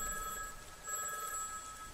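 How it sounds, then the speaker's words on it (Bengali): A telephone bell in an old boarding-house passage rings in double rings, faint and thin with a steady tonal buzz, heard alone without talk. "টেলিফোন 2-2 করে বাজছে দেখে বুঝলাম আমারই ফোন।"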